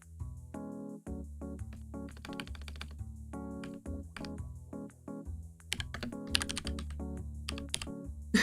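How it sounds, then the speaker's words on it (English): Close, crisp typing on a computer keyboard with quick irregular bursts of key clacks and thunks, heard alone and without any talk. "Just a little keyboard ASMR for you."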